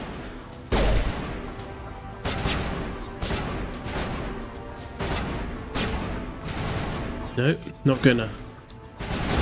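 Mass Effect gunfire sounds as dense, repeated bursts of shots at close range, mixed with crashes, and a person talks over part of it.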